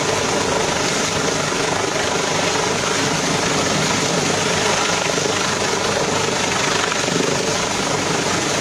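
Steady, loud rotor and engine roar of a helicopter, continuous and close with no letup and no voices.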